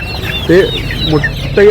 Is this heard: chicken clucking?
yes